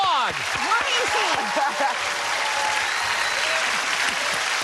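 Studio audience applause on the 1987 Card Sharks game show, a loud sustained burst of clapping with a host's voice and some whooping cutting through near the start.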